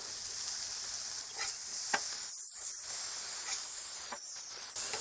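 Frozen beef burgers just flipped in a pan give a constant loud hiss and sizzle, with a few faint clicks and brief dips in the sound.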